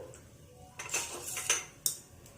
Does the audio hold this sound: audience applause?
no